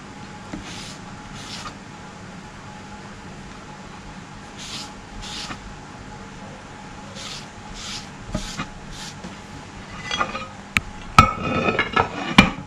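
Soft rubbing strokes as coconut oil is worked onto a mould, faint repeated swishes with a few knocks and clinks near the end, no talk.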